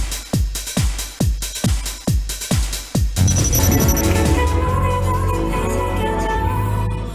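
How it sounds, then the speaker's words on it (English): Theme song from Crash Landing on You played at a wedding, opening with a run of plucked, evenly spaced notes before swelling into a sustained, fuller orchestral passage, moderately loud with no voices. "What you just heard is a very crash landing on you theme song in Yunbin and Sonia Jin's wedding"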